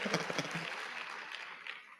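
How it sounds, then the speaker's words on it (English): Audience clapping at a Champions for Change charity event, a fairly steady spread of claps through a large room that fades slightly toward the end. "Let's clap for the law firm."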